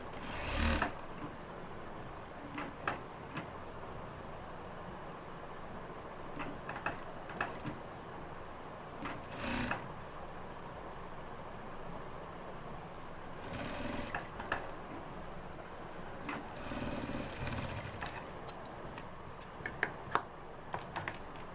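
Sewing machine stitching a belt onto a pair of pants runs in short and longer bursts of fast rattling, close and fairly steady, with pauses between runs.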